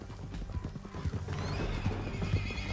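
A horse in Red Dead Redemption 2 gives a loud whinny while hooves clip-clop close by in a steady run, set against a low rumble of background game noise.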